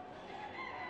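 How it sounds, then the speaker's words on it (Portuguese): A large rooster in a poultry pen at an agricultural fair in the United States: a brief, faint crowing or clucking call, heard alone for about a second. "Olha o tamanho desse galo."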